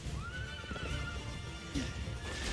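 A horse neighs in the video game Berserk and the Band of the Hawk, one loud whinny with hoof clip-clop beneath it and battle noise around it.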